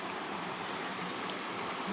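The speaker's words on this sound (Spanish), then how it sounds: "aquí baja el río Santa Bárbara" Santa Bárbara river in Asturias flowing steadily past the mill trail, a constant full-bodied rush of water with no breaks or voices.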